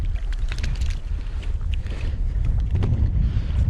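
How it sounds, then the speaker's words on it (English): Wind gusts over a lake on a fly fishing outing, buffeting the microphone with loud low rumbling and a few faint knocks and splashes, steady throughout with no talking. "The wind's starting to pick up"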